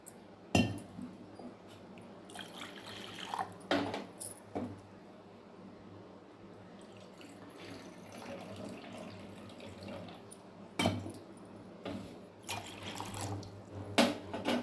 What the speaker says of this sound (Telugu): ఇలాంటి చిన్న బౌల్లో లాంటిది తీసుకొని 3 గ్లాసెస్ వాటర్ వేస్తాను నేనైతే.